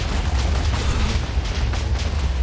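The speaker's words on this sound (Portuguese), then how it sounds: "Explodiu lá embaixo." A block of TNT detonates in Fortnite Creative, a muffled, rumbling boom that sounds somewhat distant, rolling on steadily for a couple of seconds with crackling bursts and no talk over it.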